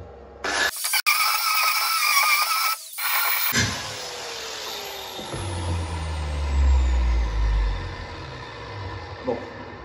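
An angle grinder powered by a Bluetti AC200L portable power station grinds metal beside a weld, a harsh, loud whine broken by short pauses, then a low rumbling spin-down.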